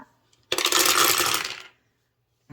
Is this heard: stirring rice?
no